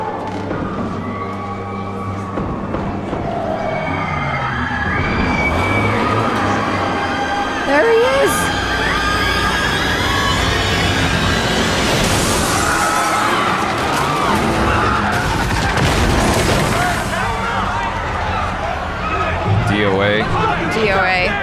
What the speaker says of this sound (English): the dull pops of the gunshots, all growing louder and louder until the SUV crashes in.